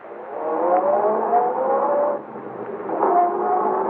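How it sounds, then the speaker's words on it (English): A big car roaring away down a driveway, engine revving loudly in two surges with a brief dip between, the tone rising as it accelerates off. "she's sending the big car roaring down the driveway"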